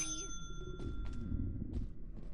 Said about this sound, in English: Should we press the bell?